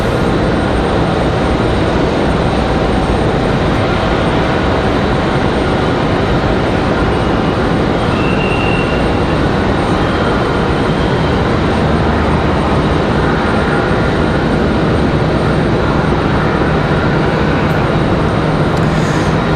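A Frontier Airbus A320 airliner departs Raleigh Durham International for Miami as a loud, continuous jet engine roar fills the whole stretch, with a steady broadband rumble and no voices.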